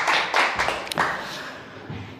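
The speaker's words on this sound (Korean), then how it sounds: "박수 부탁하겠습니다" Applause from a lecture audience at a Confucian adult-education class, a short burst of scattered hand claps that thins out and fades within a couple of seconds.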